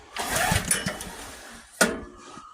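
The rope starter on an AGT H13R mini excavator's 420cc engine is pulled. A rough, raspy burst of about a second is followed by a short, sharp second pull, and the sound is close and moderately loud.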